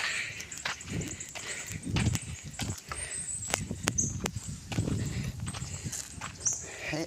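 A horse walks along on a hilly, windy route, its hooves giving a loose, uneven series of sharp clip-clop knocks at moderate distance, with quiet talk and outdoor background underneath.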